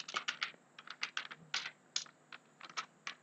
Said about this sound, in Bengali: এবার হাতে আমাকে টাইপ করতে হবে